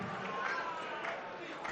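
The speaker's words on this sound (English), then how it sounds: "the crowd getting right behind her every time she wins her leg" Crowd at a WDF World Championship darts semi-final cheering a fan-favourite player after she wins a leg, a steady, loud wash of voices and applause filling the whole moment.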